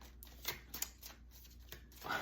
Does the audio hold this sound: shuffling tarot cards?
yes